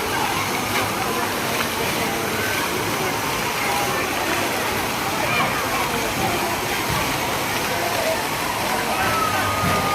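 Steady rushing and splashing water at Vismaya water park, a continuous loud wash of flowing water with no breaks.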